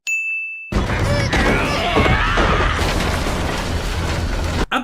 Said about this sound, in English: Absolutely beautifully smooth animation on this cannon falling down the stairs